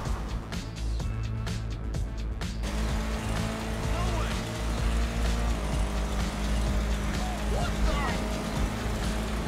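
A BMW car in GTA 5 drives on a punctured tire, giving a steady droning engine and road rumble with scraping and squealing accents, heard continuously throughout.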